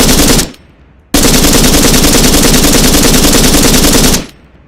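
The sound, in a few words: 9.3 light machine gun firing in a video game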